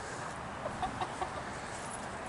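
A few quiet chicken clucks sound in quick succession over a steady hiss of background noise, fairly distant and soft.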